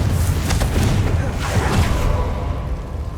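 A spell explosion in Hogwarts Legacy gameplay bursts with a booming blast followed by crackling, whooshing debris, fairly loud and brief.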